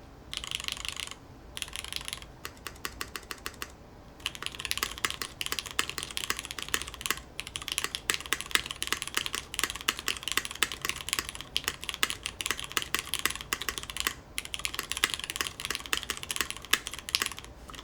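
Brisk typing on a Tofu Redux V2 mechanical keyboard with non-modded stabilizers gives dense, rapid clacking keystrokes in bursts, separated by a few short pauses. The sound is close and clear, with no talking.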